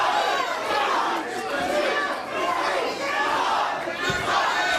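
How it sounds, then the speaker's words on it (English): A pro wrestling arena crowd chants in unison, counting along with repeated elbow strikes to the face, loud and rhythmic with rising and falling surges of many voices throughout. "The crowd counting along."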